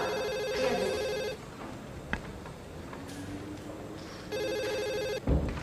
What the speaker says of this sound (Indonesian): Ana, angkat telepon.